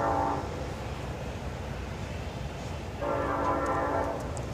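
A CSX freight train led by UP 9051, an SD70AH locomotive, sounds its horn in two long blasts on either side of a pause, over a steady roar of rolling cars close by.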